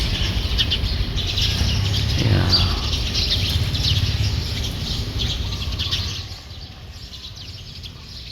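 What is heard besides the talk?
bird calling from a treetop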